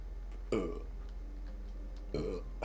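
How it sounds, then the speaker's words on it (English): Two short, low burps, close and fairly faint, separated by a quiet pause over a steady low hum. "Sometimes you burp, you know, and that's okay."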